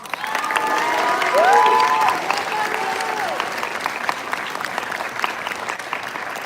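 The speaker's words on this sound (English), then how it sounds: "please give one last final round of applause to Jean-Luc Chaurin, Director of our Supreme" Conference audience applauding delegates, a dense wash of clapping that peaks early and then tapers, with a brief whistle-like tone rising over it.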